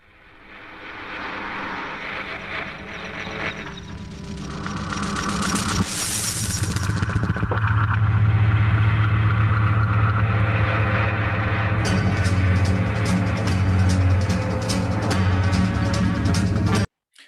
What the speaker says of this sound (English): So there you go, the flushing toilet.